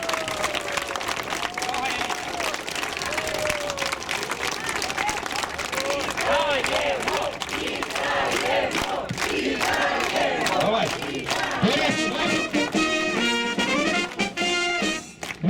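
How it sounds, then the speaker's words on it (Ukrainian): Audience at a Kyiv gathering honouring soldiers of the Sich battalion on their anniversary, applauding and shouting in a continuous loud wash of clapping and cheering, with voices calling out over it. "ви привітали бурхливими оплесками Тараса Скебу Коновальця."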